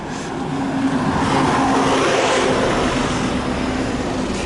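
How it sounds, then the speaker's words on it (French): Road traffic rolls past, a continuous broadband whoosh of a vehicle passing close by with a steady engine hum, loud and unbroken for several seconds with no talk. "Il y a des bus qui passent par là"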